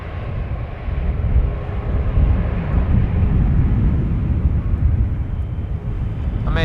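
An airliner landing at Amsterdam Schiphol roars with engine thrust reversers, a broad, steady rushing rumble heard from a distance with wind buffeting the microphone.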